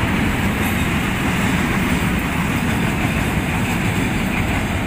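A CC206 diesel locomotive pulls a train into Tanggulangin station, with a steady, loud low rumble of engine and rolling wagons that holds evenly throughout and has no talk over it.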